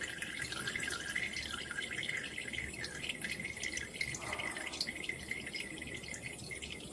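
Water dribbles from the outlet of a draining tank in a fluid mechanics demonstration, a steady faint trickle and splatter that runs on continuously without pause.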